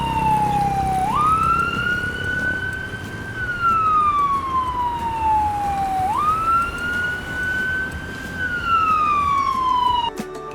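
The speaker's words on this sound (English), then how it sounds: "Look, it's a white ambulance with red stripes." A mini toy ambulance, white with red stripes, sounds its electronic siren: a loud, steady wail that rises and falls in slow repeating sweeps, with no talk over it.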